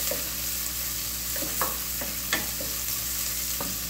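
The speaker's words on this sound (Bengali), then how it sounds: "দিয়ে দিলাম চিংড়ি মাছগুলো, এটার সাথে এটা একটু সুন্দর করে কষে যাক।" Shrimp fry in a pan and are stirred, giving a steady sizzle with several scraping stir strokes spaced across the clip and no talking.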